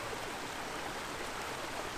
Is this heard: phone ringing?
no